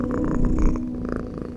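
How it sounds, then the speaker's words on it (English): Cat purring in the video game Befriended Curse, a steady close rumbling purr with soft rhythmic pulses that runs on its own, no voices. "I don't even know what the cat's name is."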